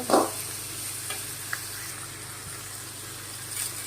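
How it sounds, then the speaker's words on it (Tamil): Onions and curry leaves sautéing in hot oil after popped mustard and fenugreek seeds for a brinjal kara kuzhambu, a soft steady sizzle with a brief stirring scrape near the start. "கடுகும் வெந்தயமும் பொறிஞ்ச உடனே வெங்காயத்தை போட்டு வதக்கிக்கணும்"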